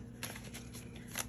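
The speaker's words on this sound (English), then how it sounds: "I was shuffling and cards are flipping out as we speak." Tarot cards being shuffled, a quick run of soft papery riffles and slaps with a few sharper flicks, close and fairly quiet.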